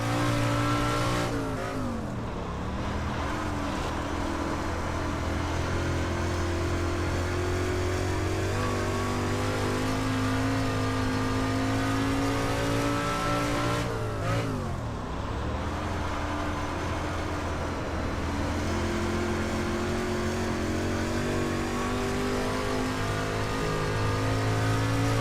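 Street stock car engine drones and revs through a full lap of a dirt oval in the iRacing sim, loud and continuous, dipping twice as the throttle lifts for the corners.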